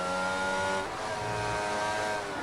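An F1 race car engine screams in a racing video game at the Japanese Grand Prix, a loud high-revving whine that drops as the car shifts, then climbs again, with no voices.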